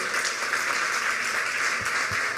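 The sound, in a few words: applause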